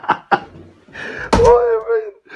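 A door in a newly bought Moscow apartment gives two quick knocks followed by a heavier thunk as it moves, close and loud, with people talking around it.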